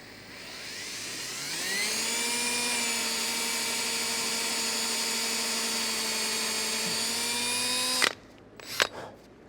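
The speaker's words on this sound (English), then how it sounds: "I'm going to drill the holes first, get these mounted." A power drill boring mounting holes for underwater lights in a 2007 Sea Chase 200 flat boat spins up and holds a steady high whine for several seconds, then stops, followed by a few brief clunks.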